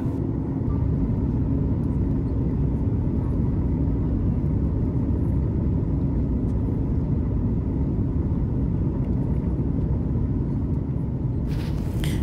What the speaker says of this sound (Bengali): এবার অনেকটাই নিচে নেমে গেছে, এবার কিন্তু ল্যান্ড করবে